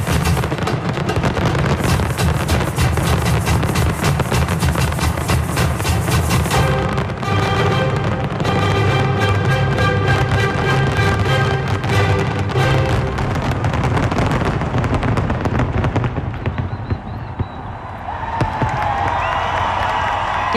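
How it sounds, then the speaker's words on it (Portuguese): New Year fireworks display over Copacabana beach, with dense continuous bursts and crackles under loud crowd cheering, music and applause that thin out toward the end. "Termina o show de fogos de artifício com uma mistura de Beethoven com samba."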